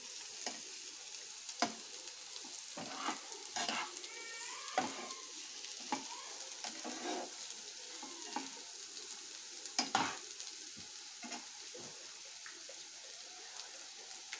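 Boiled potato is stir-fried with carrot, beans and cauliflower in a pan. Frequent close scrapes and clatters of a spatula come in an irregular rhythm over a faint sizzle, and no one speaks.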